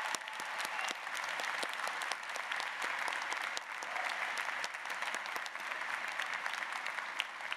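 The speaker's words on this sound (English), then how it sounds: "Let's applaud their efforts as well." A large commencement ceremony crowd applauding at a college of arts and sciences graduation, a steady dense wash of many hands clapping, distant and even, with no talk over it.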